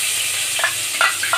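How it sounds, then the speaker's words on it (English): Onions frying in hot oil while pasta is cooked at home, a brief steady sizzle with a few quick scraping stir sounds over it. "Now we will add these onions slowly."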